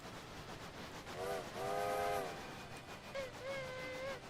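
Train whistle in a cosy train-driving video game, two harmonic toots followed later by a longer, fainter whistle answering, over a steady rumbling rail background.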